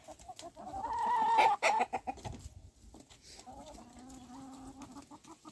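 Chickens cluck and squawk close by, a busy burst of hen calls that rises, then settles into softer, steady clucking.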